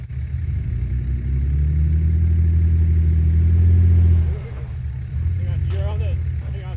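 A 4x4 engine revs hard and holds a strained, steady roar for a few seconds while towing a stuck vehicle down a snowy mountain on a recovery rope, then drops off. A voice speaks briefly near the end.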